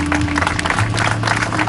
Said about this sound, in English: So a big round of applause to the entire team that worked on this,